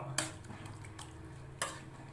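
A utensil stirs thickening food in a red pot to keep it from sticking, making two distinct scraping strokes with softer scrapes between, quiet and close, without any talking.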